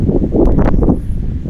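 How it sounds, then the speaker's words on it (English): Strong gusty wind buffets the microphone at a park in a steady, loud low rumble with brief louder gusts, heard alone without voices. "Windy today."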